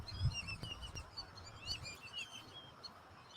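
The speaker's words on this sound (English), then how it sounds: "The fuck are these birds?" Small birds chirp and tweet outdoors at night beside a telescope set up to film a pass of the International Space Station, with repeated quick high calls over faint background hum and a low bump near the start.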